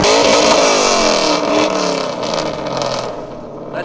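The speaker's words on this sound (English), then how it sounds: "That is the loudest Miata I've ever heard." A Mazda Miata race car revs hard and loud at close range, its engine note sweeping up and down in pitch with a raspy, aggressive exhaust at a race track.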